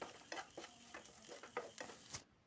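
Elephant foot yam masala fry is stirred and sautéed in a pan, soft sizzling under repeated scraping strokes of a spoon at a steady pace, close and without talking.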